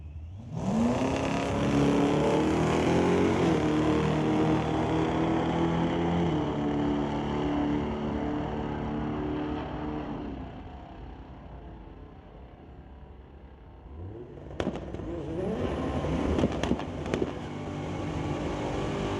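Plymouth and Datsun drag cars launch together down the strip at a Friday night street-legal drag race, engines roaring loud and rising through gear changes before fading, then another burst of revving near the end.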